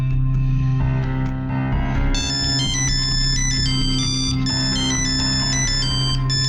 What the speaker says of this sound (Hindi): मानसी की माँ का फोन। भाई तू फोन उठा